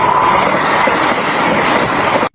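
A passing train makes a loud, close, continuous rumble with a steady rolling roar of wheels on rails that cuts off abruptly at the end, with no voices.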